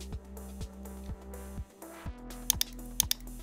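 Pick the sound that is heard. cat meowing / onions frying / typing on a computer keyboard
typing on a computer keyboard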